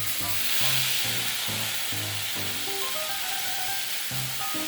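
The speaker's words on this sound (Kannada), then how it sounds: "ಇದಕ್ಕೀಗ ಬೇಯಿಸಿ ಇಟ್ಕೊಂಡಿದ್ದ ತರಕಾರಿಯನ್ನು ಹಾಕ್ತಾಯಿದ್ದೀನಿ." Pre-boiled vegetables hit a hot pan for soya paneer pulao, setting off a loud, steady close sizzle with some stirring clatter and a low hum underneath, no speech.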